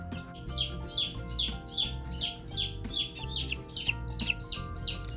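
Inside a classroom incubator, a chick still working its way out of a pipped egg peeps over and over in a steady series of bright chirps, with an already-hatched chick close by. The sound is fairly faint and there is no talk.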